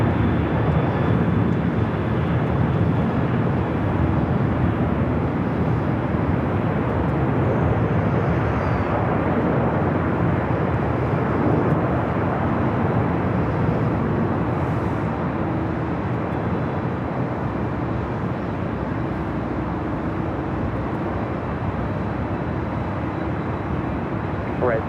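A Boeing 747 rolling down runway 25 Right at LAX, a deep steady jet engine roar that stays loud and even for the whole stretch, with talk mixed in over it.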